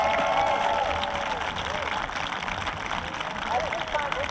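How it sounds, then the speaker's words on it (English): Audience applause for a trumpet band, a dense sustained wash of clapping and crowd noise with voices mixed in, steady throughout. "Let's give another round of applause."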